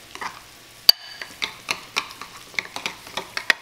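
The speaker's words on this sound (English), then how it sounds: "I'm just gonna give it a good stir, mix this all together" A spoon stirs a quinoa mixture seasoned with salt in a bowl, giving quick, close, irregular scraping clicks and taps at about three per second.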